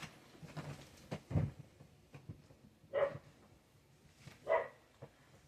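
Distant dogs bark intermittently, a few muffled woofs spread out over several seconds in a fairly quiet space.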